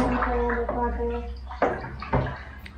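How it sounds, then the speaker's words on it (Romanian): Milk is stirred in a large vessel to make sheep's cheese at a mountain sheepfold. The stirring gives a loud, close, sloshing churn with a few splashy knocks, and a voice is heard briefly near the start. "Se mestecă la lapte."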